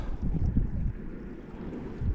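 Wind buffets the microphone in low, rumbling gusts that rise and ease while trout fishing by the water in Kraków, with water faintly lapping underneath and no voices.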